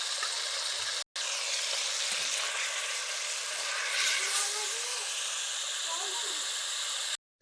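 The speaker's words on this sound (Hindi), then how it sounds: "अब इसकी बुनाई जो है वो तकरीबन 8 मिनट रहेगी।" Chicken white karahi sizzles and fries steadily in a pan, a continuous bright hiss with slight swells, heard close and fairly loud, with two brief dropouts to silence.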